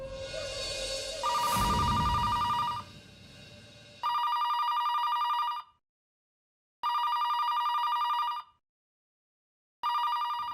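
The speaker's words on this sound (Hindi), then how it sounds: "ज़रा फोन उठाओ।" A telephone rings in repeated bursts, three clear electronic rings separated by silent pauses, following a brief noisy jumble with a similar tone.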